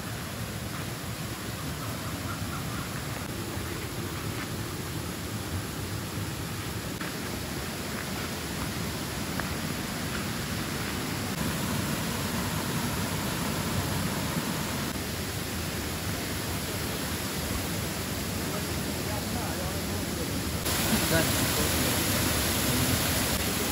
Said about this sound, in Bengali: বৃষ্টি হওয়ার কারণে ঝর্ণার ফ্লোটা অনেক বেশি সুন্দর লাগতেছে